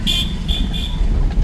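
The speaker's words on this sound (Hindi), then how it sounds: "इसको हॉर्न दो।" A car horn sounds three short high-pitched beeps in quick succession over a low engine rumble.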